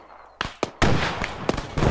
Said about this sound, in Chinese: 他用火箭筒直接射过去，雷根超准。